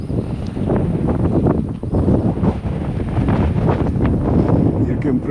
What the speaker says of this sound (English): It's very high wind today, and that's the reason I didn't go to park, because here in the neighborhood is very windy.